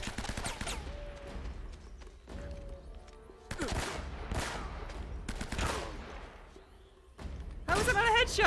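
Bursts of gunfire in the video game Uncharted: Drake's Fortune, loud sharp repeated shots and volleys in several clusters with short gaps between them, plus thuds and ringing ricochet-like tones, ending in a dense barrage.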